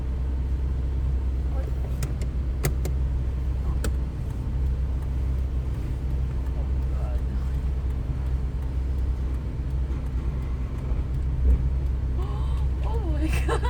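Car cabin during a driving practice session: steady low engine and road rumble runs throughout, loud and continuous, with people talking over it.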